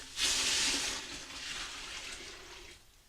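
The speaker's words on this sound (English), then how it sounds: "Now we're going to add 6 cups of water." Water pours in a rushing splash into a pot, loud at first and then settling into a softer steady flow before stopping.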